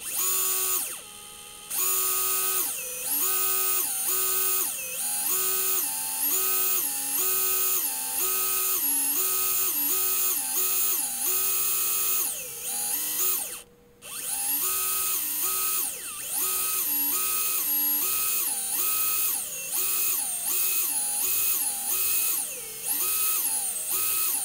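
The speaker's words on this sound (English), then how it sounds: "I'll start the drill slowly and then speed it up" A small drill bores holes in a printed circuit board, whining steadily with repeated rises and falls in pitch as it speeds up and slows down for each hole. One brief pause breaks the run.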